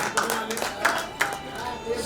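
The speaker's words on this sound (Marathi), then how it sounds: "सानपसाठी टाळ्या वाजवा" An audience at a staff get-together claps for an honoree during an award presentation, with a few scattered, uneven claps mixed with a voice and room chatter.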